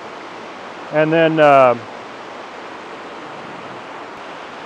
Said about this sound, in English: the water's rushing down here